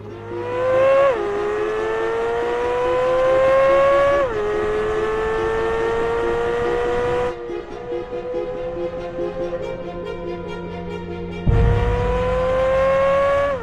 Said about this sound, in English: This car goes so fast, so easily, and the ability to just kind of handle the car on this track